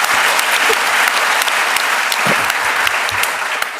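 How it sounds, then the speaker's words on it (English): A lecture hall audience gives a loud, sustained round of applause welcoming the broadcaster John Humphreys, thick continuous clapping close at hand with a steady level and a few sharp individual claps standing out. "That second bit of applause doesn't come out of my allotted time, does it?"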